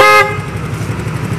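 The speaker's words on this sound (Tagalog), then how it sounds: "Ito yung busina." A short, loud motorcycle horn toot with a bright, reedy tone, cut off quickly, followed by steady big-bike engine rumble nearby.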